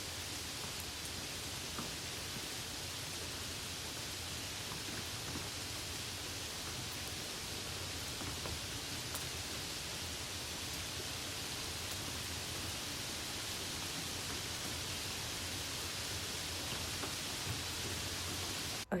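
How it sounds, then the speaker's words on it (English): Looping rain background sound played from a phone's background-noise setting, a continuous broadband hiss that stays level and unbroken the whole time, with no voices over it. "there's a setting on your phone I didn't even know about where you can do background noises, and then I'll do the rain and then just play it"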